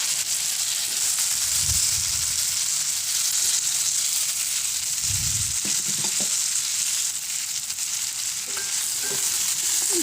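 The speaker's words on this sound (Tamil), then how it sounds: "காயெல்லாம் மசாலா பிடிக்கிற அளவுக்கு வதக்கி விட்டுக்கிறேன்." Carrot pieces, drumstick and long-cut brinjal sauté in hot oil for idli sambar, giving a loud, steady sizzle throughout, with a few stirring scrapes from a spoon against the pan.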